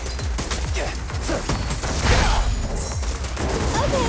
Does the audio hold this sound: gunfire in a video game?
yes